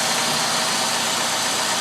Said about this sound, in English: And there's the belt running.